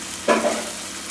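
Tomatoes dropped into a hot, sizzling pan while making chukka koora (sorrel leaf) curry, giving one brief burst of frying hiss that settles into a softer sizzle, close by with no talk.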